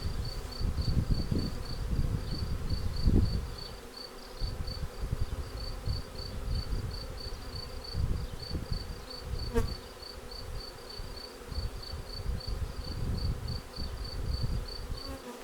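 A honeybee swarm hums steadily as it enters a hive, a continuous close insect buzz with a high whine running throughout, joined by low rustling handling noise near the microphone.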